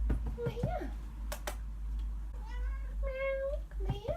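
A house cat meows a couple of times indoors, with a person talking around the short cries and light tapping in the background.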